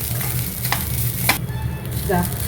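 Banana and sesame being sautéed briefly in ghee in a pan, a steady soft sizzle with a few scraping stirs of a spoon, close and alone without talk.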